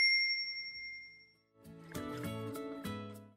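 A notification bell chime, a soft sustained ding fading out, followed by a brighter run of several quick bell-like dings in a rhythmic cluster.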